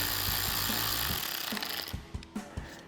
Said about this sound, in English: tighten that down with a 7mm socket